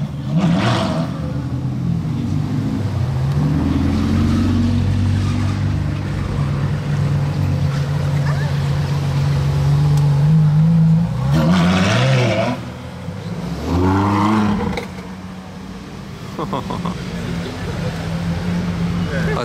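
A group of Ferrari sports cars, a LaFerrari Aperta among them, rev through the streets of Monaco, their engines rumbling steadily and swelling into a loud rising rev before dropping back, with people talking over them.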